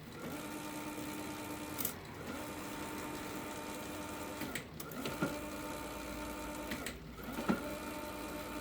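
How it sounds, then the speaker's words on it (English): A Bafang BBSHD mid-drive electric bike motor fitted to a Siskiu D8 mountain bike whirs steadily under throttle, a constant mechanical hum with brief dips and clicks every few seconds as it cuts out and gears change. "we can hear the motor cutting out"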